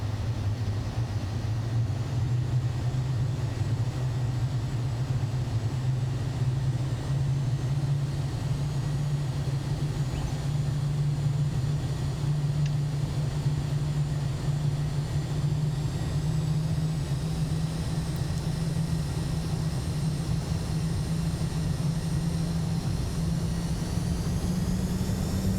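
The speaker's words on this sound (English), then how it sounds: "Takeoff is engaged, and throttle up and hit the auto throttle, and we're off to the races." Simulated Bombardier Challenger Longitude jet engines in Microsoft Flight Simulator 2020 throttling up for takeoff, a steady loud roar with a slowly rising whine that climbs in pitch throughout, no talking.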